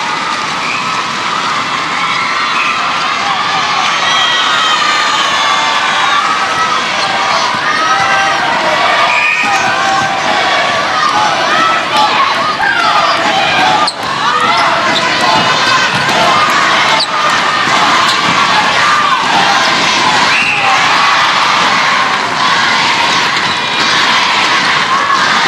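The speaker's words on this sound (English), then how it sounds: "Listen to the crowds." A large arena crowd at a SEA Games netball final between Malaysia and Singapore roars steadily, with loud, sustained cheering and shouting filling the space for the whole stretch.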